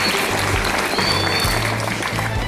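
A school audience applauds at a junior high student project exhibition in Klaten, Central Java, with a dense, steady wash of clapping throughout and low crowd rumble underneath.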